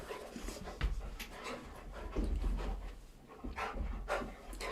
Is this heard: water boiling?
no